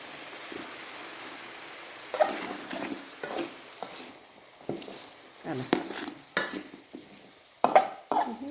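Carrots being stirred and fried in a pan, with a steady low sizzle broken by several sharp scraping and clattering stirring strokes, close and fairly loud, no talking.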